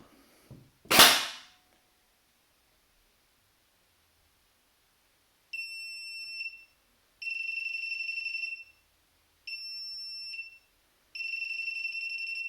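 A Classic Army X9 Nemesis airsoft SMG on semi-auto fires a single sharp, loud shot, followed a few seconds later by a series of clear electronic beeps in four separate bursts.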